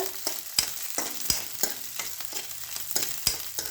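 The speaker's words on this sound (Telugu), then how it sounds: "కొంచెం పచ్చిమిరపకాయలు వేగించేసి కలిపేయడమేనండి." Green chillies frying in a pan for pulihara, a steady close sizzle broken by sharp clacks of a spoon stirring at an uneven pace, with no voices.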